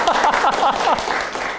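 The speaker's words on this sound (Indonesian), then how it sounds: "Ayo yang semua di ruangan ini kasih tepuk tangan berjamaah dulu untuk obrolan kita." Applause from a room of listeners at a military podcast recording for Mother's Day, a short burst of brisk, dense clapping at close range, fairly loud and uniform before it thins out.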